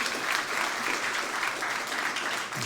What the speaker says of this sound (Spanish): Un aplauso para el Señor, gloria a Dios,